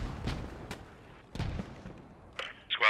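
Machine gun fire in a WWII video game set at the Battle of Arnhem: a few sharp, fairly distant bursts crack out with gaps between them, followed by a brief higher-pitched noise at the end.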